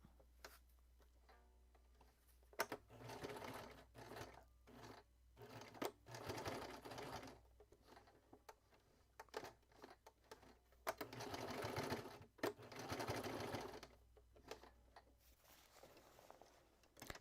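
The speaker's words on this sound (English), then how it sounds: "And then I sew back and forth a few times" A home sewing machine stitches back and forth over elastic at a short stitch length, in repeated quick bursts of rapid needle chatter with brief pauses between them, close and fairly quiet.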